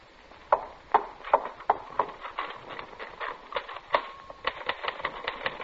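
Uneven mechanical keystrokes tap out in quick bursts and pauses, close and crisp, like a typewriter being worked without any talking.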